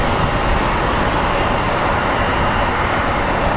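An airplane engine roars loudly and steadily at Phoenix Sky Harbor airport, a dense, unbroken wash of engine noise close by with no voices.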